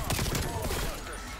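Rapid M16 rifle fire in the video game Black Ops Cold War, a short burst of closely spaced shots, loud at first and then fading, with a voice faintly underneath.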